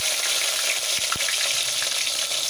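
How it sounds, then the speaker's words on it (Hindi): Chopped tomato hits hot oil already crackling with fenugreek seeds in a pan for a potato and pointed gourd curry, setting off a loud, steady sizzle and fry hiss that runs the whole time, with a couple of soft knocks. "अब इसमें जाएगा टमाटर चॉप किया हुआ"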